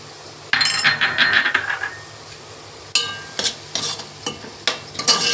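Capsicum and pav bhaji masala stirred in a pan for Mumbai-style butter pav bhaji, a sizzling fry with repeated scraping strokes and light metallic clinks of a spoon against the pan, close and fairly loud.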